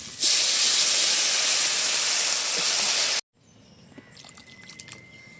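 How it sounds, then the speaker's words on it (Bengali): Water poured into a hot pan of fried jackfruit seeds bursts into a loud, steady steaming hiss that cuts off abruptly after about three seconds, leaving faint bubbling and small clicks. "সুন্দর করে কাঁঠালের দানাটা কষিয়ে নিয়েছি, এবারে পরিমাণ মতো জল দিয়ে দেবো।"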